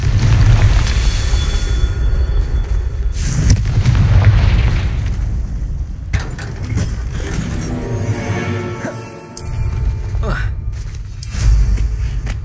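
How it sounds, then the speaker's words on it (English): The Confringo fire spell from Hogwarts Legacy bursts with booming explosions amid dense game effects, loud and close, with several rumbling blasts across the clip and a voice calling out over the action. "Confringo!"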